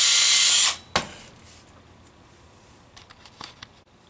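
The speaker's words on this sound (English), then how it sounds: "we're going to go ahead and get these all trimmed up real quick" A power case trimmer briefly whirs while trimming rifle brass cases, a loud burst that cuts off within the first second, followed by faint clicks and handling sounds.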